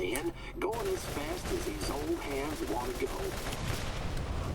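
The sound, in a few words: rapid bazooka fire in video game Borderlands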